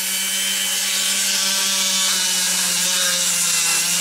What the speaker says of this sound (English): I use one of these stainless steel wire brushes on my Dremel just to go up and down inside